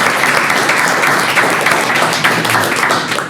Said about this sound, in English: Give Spence a round of applause.